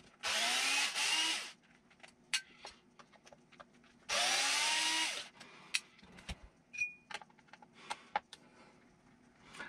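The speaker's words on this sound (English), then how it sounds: "just not sure how long I'm going to need this fender off, so I'm just putting these screws in place" A power drill drives screws into the fender of an Axial SCX6 Trail Honcho 1/6 scale RC crawler in two short, loud, near bursts of motor whine, followed by small clicks and handling taps.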